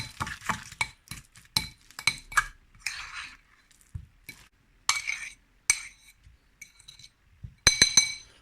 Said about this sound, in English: Give it a good old mix up and then we're going to spread it on the bread.